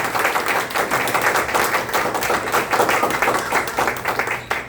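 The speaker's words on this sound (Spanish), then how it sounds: "Vamos a ver si es cierto, si un aplauso fuerte." Loud, sustained applause from a gathered congregation, dense clapping filling the whole stretch without a break.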